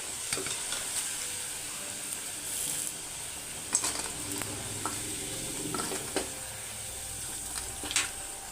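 Potatoes sizzle and crackle in hot oil, with occasional stirring clinks and scrapes from a utensil in the pan.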